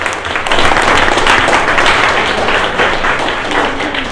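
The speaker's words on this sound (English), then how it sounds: "Let's have a round of applause for the Jamals" An audience at a junior hackathon show-and-tell gives a round of applause, dense sustained clapping that stays loud and steady from start to finish, with a few voices mixed in.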